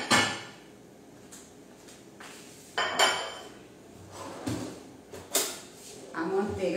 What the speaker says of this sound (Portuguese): Vou só pegar o prato aqui de uma vez